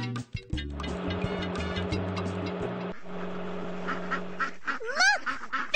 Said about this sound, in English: Look, baby ducks. Los patitos.